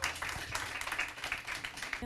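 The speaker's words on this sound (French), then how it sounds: "On l'encourage, s'il vous plaît, on applaudit" A crowd at a French-language school eloquence contest claps and applauds for the first candidate, a steady, moderately faint patter of many hands under some background voices.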